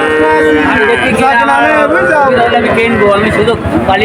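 Sahiwal calves at a busy cattle market moo loudly and close, their long drawn calls overlapping one another, while people talk and bargain in the crowd around them.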